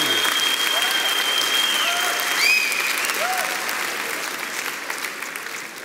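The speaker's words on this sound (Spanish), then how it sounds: "Un fuerte aplauso para todos los solteros y las solteras." A church congregation gives a warm round of applause for its single men and women, thick continuous clapping that swells briefly and then slowly fades while still sustained.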